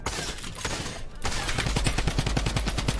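Rapid Tommy gun fire in Fortnite, a fast, even burst of sharp shots after a brief lull, loud and close with a steady rattling rhythm.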